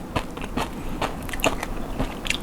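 Someone bites and chews crispy roast suckling pig skin at close range. There are several sharp crunches and crackles over a couple of seconds, with no talking.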